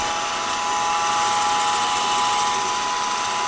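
An older Rockwell drill press running after restoration hums steadily and evenly, with a faint mechanical whir and a sustained tone throughout and no talking.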